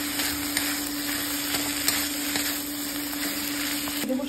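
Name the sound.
stirring ivy gourd with onion and poppy seed paste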